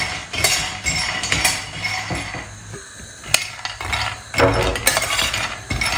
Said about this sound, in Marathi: दोन तीन मिनटं छान असं परतून घ्यायचं हलकंसं